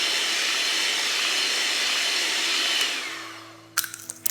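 Electric mixer beating cream cheese with eggs on low speed for a coffee Basque cheesecake, a steady loud whir that slowly fades and stops, followed by a few light clinks.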